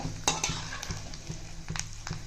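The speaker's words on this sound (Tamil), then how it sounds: "பெருங்காயம் போட்டு நல்லா வறுபடட்டும்" Asafoetida and chana dal fry in oil in a pan for upma kozhukattai, a steady close sizzle broken by a few sharp scraping stirs of a spoon against the metal.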